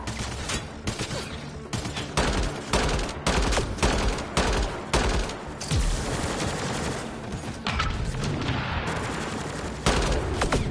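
Rapid, sustained gunfire from a Mass Effect: Andromeda firefight, dense bursts and volleys crackling loudly and close with almost no pause throughout.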